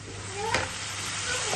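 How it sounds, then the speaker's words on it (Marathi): Asafoetida tempering sizzles and crackles in hot oil in a home kitchen, a steady frying hiss with a sharper pop near the start. It is brief and close, with no words. "आता ही जी फोडणी आहे ती थोडीशी तडतडली की मग ह्याच्यामध्ये मी ऍड करणार आहे कांदा"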